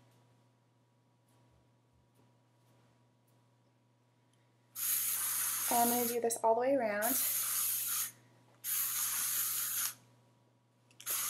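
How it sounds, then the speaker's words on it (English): Bursts of Redken 23 Forceful dry hairspray hiss onto hair close by: a long spray, a brief pause, another long burst and a third starting at the end, with someone talking over the first burst. "I just have this hairspray. It's the Redken 23 Forceful"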